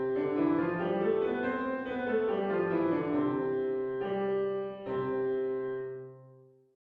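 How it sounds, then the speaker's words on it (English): A major scale played as sustained, overlapping notes that step through the scale with a few clear new attacks, ending on a long ringing tone that fades out, clean and without voices. "That was a major scale."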